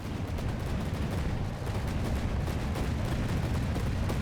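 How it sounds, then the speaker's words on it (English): Mortar volley in the naval combat game From the Depths, a battleship tournament match: dense, continuous low rumbling barrage of overlapping blasts, loud and steady throughout with no pauses. "So we have another volley of mortars here."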